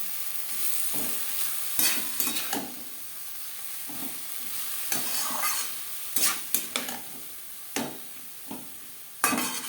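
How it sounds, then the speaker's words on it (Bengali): Chopped banana stem and onion are fried in a pan for a Bengali dish, a spatula scraping and tapping in irregular strokes over a soft, continuous sizzle. "পেঁয়াজের সাথে খোর বেশ ভালো করে মিক্স করে দেবো"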